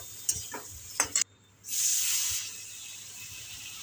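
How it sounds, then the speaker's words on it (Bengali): A masala of Kashmiri chilli powder and sour yogurt is stir-fried in a pan for dhokar dalna, with a few scraping stirs and then a sudden loud sizzle that rises, holds for about a second, and settles into a steady hiss. "ভালো করে মশলাটাকে কষিয়ে নেব"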